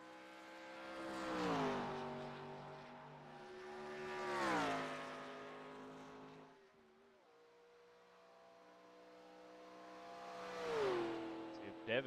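A retro 1980s race car in a racing video game accelerates up through the gears, its engine climbing in pitch three times with shifts between, loud and sustained, with a brief lull before the final pull.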